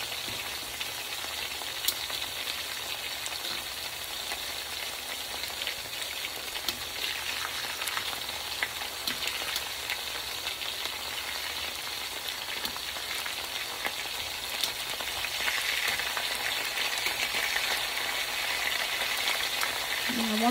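Albondigas meatballs for Mexican albondigas soup sizzle steadily in a pan after being flipped, a continuous, fairly even crackle with no talk over it.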